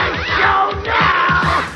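Studio audience of forty to sixty local children cheering on King Koopa, a loud, continuous crowd of young voices shouting and whooping with rising surges, close and filling the whole moment.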